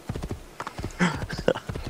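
Horse hooves clip-clopping in Assassin's Creed 2, a quick regular run of hoof strikes at close range, with a brief whinny-like tonal sound partway through.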